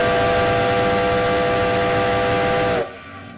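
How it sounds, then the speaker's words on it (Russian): Five-tone steam whistle of a Soviet FD20 steam locomotive at an expo in Saint Petersburg, one long loud chord-like blast with hissing steam, cutting off abruptly near the end. "Пятитоновый свисток, звук которого был слышен за десяток километров и стал знаменитым символом именно советских паровозов"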